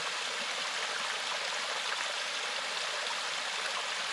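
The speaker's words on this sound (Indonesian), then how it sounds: "Ini sumber air yang paling kuat daerah sini." A strong spring-fed stream of clear water flows with a steady, broad rushing hiss, even and unbroken, with no voices.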